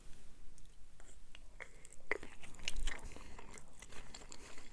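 Quiet, close chewing of sloppy joe casserole, soft wet crunches and bites with faint scraping, spread unevenly over a few seconds.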